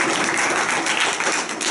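Audience clapping on request at a Baba Saheb Ambedkar jayanti gathering in Bhatedi village, Muzaffarnagar: a dense, steady wash of applause from many hands, close and loud, filling the whole stretch without any talk.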